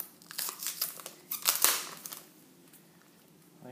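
Protective film layers being peeled off a Dell Venue 10 Pro tablet give close, faint crinkling and crackling bursts that fade to quiet.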